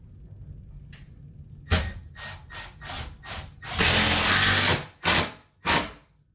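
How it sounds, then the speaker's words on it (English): Ratchet driver tightening a screw snug against a closet wall during a remodel, with a quick series of short ratcheting bursts, a longer sustained drive, then two final clicks, close and loud with no talk. "The reason I love these ratchet drivers is it sucks it up good and tight up against the wall."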